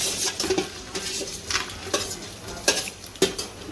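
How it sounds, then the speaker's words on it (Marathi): Turmeric and salt being stirred into hot oil for chivda, a soft sizzle broken by repeated close scraping and clinking of a spoon against the pan. "तेल आल्यावर आता हळद आणि मीठ टाकायचं आहे"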